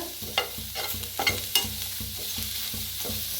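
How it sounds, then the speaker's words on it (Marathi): Onion roasts in oil in a kadhai under steady stirring, giving a constant sizzle with rhythmic scraping strokes about twice a second and a few sharper scrapes, close and fairly loud. "तर कांदा चांगला असा भाजून घ्यायचा, हलवत भाजायचा"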